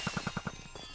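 A Minecraft firework goes off as a quick run of five evenly spaced popping bursts, followed by a softer, scattered crackle as it fades.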